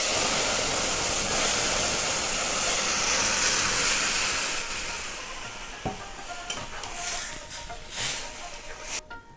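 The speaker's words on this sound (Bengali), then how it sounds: "এবারে আমি তরকারিটা ঢেলে দেব।" Vegetable curry poured into a little hot oil with fried ginger, giving a loud steady sizzle and hiss that eases into softer, uneven frying with a few clinks of a utensil.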